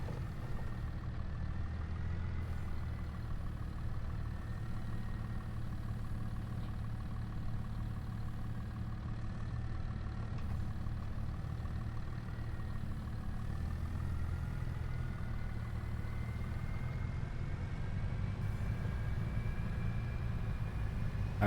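A tractor engine runs steadily in a logging video game set in Riverbend Springs, a deep continuous rumble and hum that holds nearly unchanged throughout with no talk.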